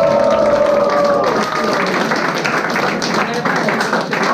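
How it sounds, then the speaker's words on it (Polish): A crowd at a freestyle rap roast event applauds for the performer Pejter, a loud continuous wash of clapping and cheering with a shout at the start, dense and sustained throughout. "zróbcie wielkie brawa dla Pejtera"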